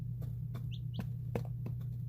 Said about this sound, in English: these are all little chicks. These are all chickens.